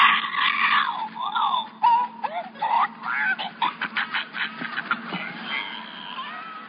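A clucking, squawking chicken sound effect, a run of loud choppy calls and squawks in irregular bursts with no talk over it.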